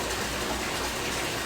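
Bathwater pouring from a faucet into a tub, a constant loud hiss and splash heard up close, unbroken for the whole moment with no speech.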